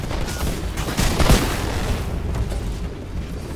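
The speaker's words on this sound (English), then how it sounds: "It's actually my teammates who are shooting them." Rapid gunfire from teammates in the video game Titanfall, a dense burst of overlapping shots and booms crackling close and loud for a few seconds.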